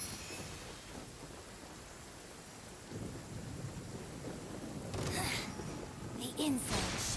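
Rain falling with rumbling thunder in the Genshin Impact video game, a steady hiss under faint game sounds, with a louder crackling swell near the end.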